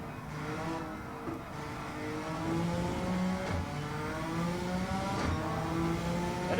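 A Suzuki Escudo racing car in Gran Turismo 7, driven flat out at the Nürburgring Nordschleife without traction control, its engine holding a loud steady high-revving drone with slight pitch shifts through gear changes.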